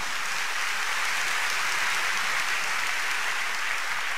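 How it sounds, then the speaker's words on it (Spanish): A church congregation claps in a sustained, even burst of applause during a worship service, a dense wash of many hands with no voices on top. "Dele un buen aplauso al Señor."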